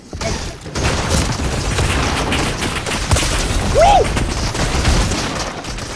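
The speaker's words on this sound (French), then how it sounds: "c'est grâce à mon arme explosive" Explosive weapon fire and gunfire in a multiplayer shooter video game, with a continuous rumbling barrage of blasts and shots running throughout at steady loudness.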